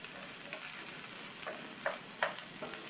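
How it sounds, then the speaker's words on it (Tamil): Raw plantain pieces being stirred and fried in oil in a pan, with faint steady sizzling and a few sharp spatula scrapes and clinks, no talk. "இந்த வாழைக்காயை நல்லா எண்ணெயிலேயே மறுபடியும் நல்லா இந்த மாதிரி பரட்டி விட்டுக்கணும்"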